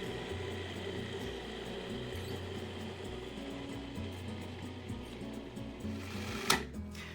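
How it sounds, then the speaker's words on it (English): A food processor purees a rough-chopped cilantro mixture for chorizo, giving a low motor hum that pulses in uneven bursts with a churning, chopping texture, fairly quiet, ending with a small clatter, and no one speaks. "add that to the food processor as well. Turn it on and make as smooth a puree as I can"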